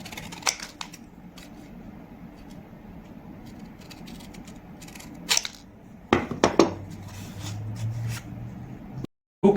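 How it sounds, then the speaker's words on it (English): Long scissors snip through a paper stained glass pattern piece, giving a few scattered close cuts and crisp rustles, then a brief cluster of sharper snips with a low hum underneath. "Those are very long scissors."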